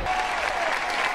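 A football stadium crowd at a spring game applauds and cheers in a dense, continuous roar of clapping and voices, loud and steady throughout the brief moment.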